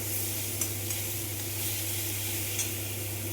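Turmeric, coriander, cumin and Kashmiri chilli powders frying in a pan, a low continuous hiss with a couple of faint crackles over a steady background hum.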